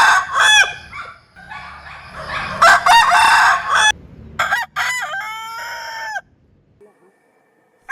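Several village roosters crow one after another and overlapping, loud close cock-a-doodle-doos with clucking between them, trailing off into near silence at the end.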